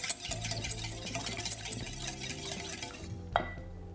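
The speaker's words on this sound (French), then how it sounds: "Une fois que vous avez ajouté la gélatine, vous mélangez bien" A whisk beats a gelatin mixture in a bowl for a coconut dessert, a steady rapid scraping swish that runs close and moderately loud for several seconds before a brief clink and stop.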